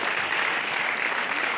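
Loud, sustained applause from an audience clapping for several leaders at a company gathering, a dense steady wash of hands filling the whole moment with no voices over it.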